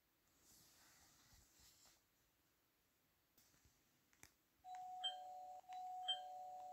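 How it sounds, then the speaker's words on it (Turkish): A doorbell in Roblox Brookhaven rings twice in quick succession, each a clear two-tone electronic chime following faint breathing and a few clicks. "Zil mi çaldı?"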